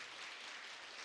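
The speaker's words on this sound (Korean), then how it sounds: "박수 한번 쳐드려요" Dense applause from a church congregation at a revival healing service, a steady wash of many clapping hands filling the brief moment without any voices.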